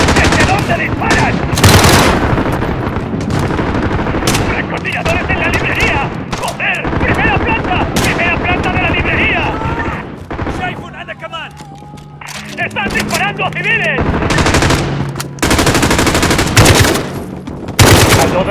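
Machine gun fire during an attack at Piccadilly Circus in Call of Duty: Modern Warfare (2019), loud rapid bursts and single shots recurring throughout, with shouting voices and a brief quieter lull midway.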